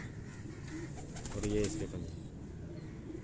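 A pigeon on a rooftop in Kasur gives a single short, soft coo close by, partly under someone speaking.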